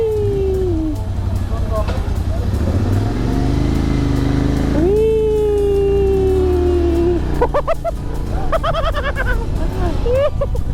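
Riding pillion on a Royal Enfield Interceptor motorcycle, a loud steady engine drone with pitch sweeping up and down as it revs and shifts gears, and rider voices calling out over the rushing noise.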